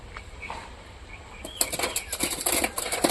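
Two Punjabi pigeon chicks flap their wings in bursts of rapid fluttering that start midway and continue to the end, close and fairly loud over a quiet background.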